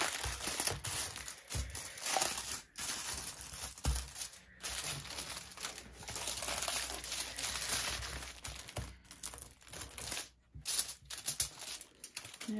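Aluminium foil pressed down onto card and folded over for a craft picture, giving continuous soft crinkling and rustling close by, with a few brief pauses and sharper crackles.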